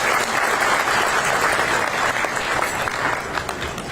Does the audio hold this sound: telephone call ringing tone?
no